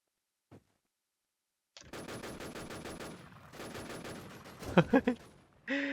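DMR rifle fire in an online shooter game rattles in rapid, loud bursts after a brief silence, ending with a few sharper individual shots and a final blast.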